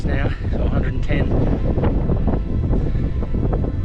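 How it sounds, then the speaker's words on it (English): Wind buffets the microphone on a foggy mountain summit in Tasmania's southwest, a loud, gusty low rumble that roars steadily throughout with no break. "It hasn't rained yet, but it's very foggy and windy."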